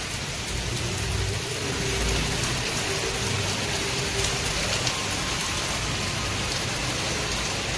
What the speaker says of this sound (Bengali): বৃষ্টি এনজয় করছি।